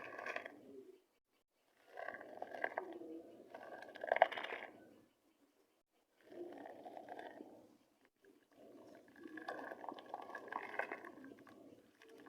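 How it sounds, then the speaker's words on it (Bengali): Two kilograms of washed rice poured into a pot of rolling boiling water for white Bangladeshi pulao, bursts of rushing, bubbling boil that rise and fall in several long waves, close and fairly loud, no voices. "এখন এখানে 2 কেজি চাল দিয়ে দেব"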